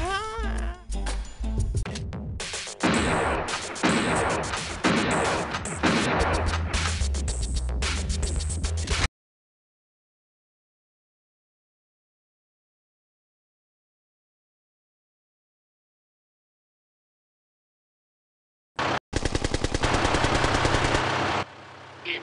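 Rapid bursts of automatic gunfire from the video game Bad Day L.A., loud and close, rattle on for several seconds, then cut to silence before another short burst returns at the end.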